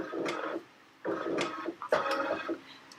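A Pfaff Creative Icon 2 embroidery machine runs its hoop scan, giving three bursts of close, steady mechanical whirring and ticking, each lasting about half a second, with short quiet gaps between them and no talking.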